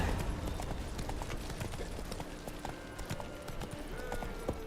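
Roach, Geralt's horse in The Witcher 3: Wild Hunt, gallops with rapid rhythmic hoofbeats on the ground, fairly faint under game ambience.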